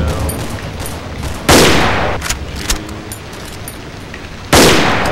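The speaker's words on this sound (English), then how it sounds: "A full clip of this pistol can just down that guy?" Loud, close gunfire in the horror game Cry of Fear, with a pistol among the weapons: rapid bursts of shots and two especially heavy blasts, sharp and punchy throughout, with no talk heard.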